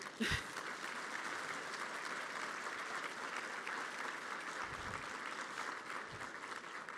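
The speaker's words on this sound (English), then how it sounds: "So can we just clap it up for a moment?" An audience at an equity awards event applauds together in a steady, even wash of clapping that lasts several seconds without any speech.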